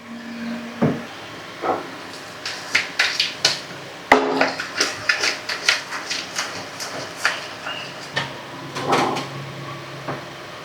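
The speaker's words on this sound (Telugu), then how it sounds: "మూత వేస్తున్నాను." Metal lid set onto a pot of mango fish curry, giving a sharp clank near the middle amid scattered knocks and clatter of kitchenware.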